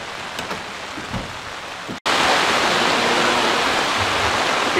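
Outdoor rain at a gathering, first a softer patter with faint background sounds, then after a brief dropout a dense, loud, steady hiss of heavy rainfall that carries on to the end.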